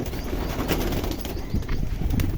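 Pigeons burst out of a home coop and take flight together in the morning, a dense, steady rush of flapping wings that stays fairly loud and close throughout, with no talking.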